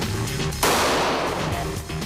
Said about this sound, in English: The first thing a soldier must learn is how to draw, hold, and fire his pistol quickly and accurately.